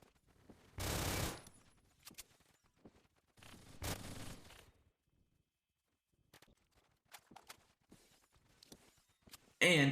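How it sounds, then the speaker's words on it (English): Gunfire from players shooting out the lights in the online shooter Phantom Forces, heard as two dense bursts of rapid shots followed by scattered single cracks and a loud final burst. "everyone started shooting out the lights"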